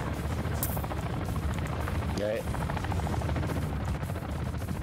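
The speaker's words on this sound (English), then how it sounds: "A chopper." A helicopter flies overhead with a loud, steady rotor chop that fills the whole stretch, and someone briefly says a word beneath it.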